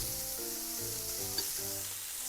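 Pork and okra sizzle steadily while stir frying in a hot pan, a bright continuous frying hiss with faint stirring scrapes and a low hum underneath.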